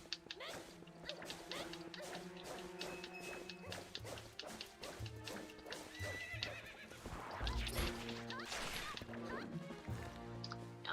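A horse whinnies and snorts amid clip-clopping hooves and game-like background music, with occasional shorter animal calls mixed in, from the video game Twilight Princess HD.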